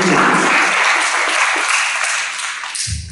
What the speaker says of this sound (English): One round of applause for her Ganga, right?